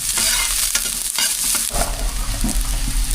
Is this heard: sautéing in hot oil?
yes